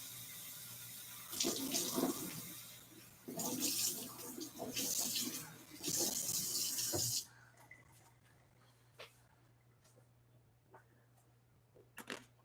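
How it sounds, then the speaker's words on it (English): Tap water runs in bursts into a kitchen sink while tomatoes are washed, a loud rushing stream that stops partway, leaving quiet handling clicks and faint knocks. "And I'm going to wash up these tomatoes."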